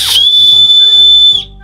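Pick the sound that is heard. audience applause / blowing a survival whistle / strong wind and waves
blowing a survival whistle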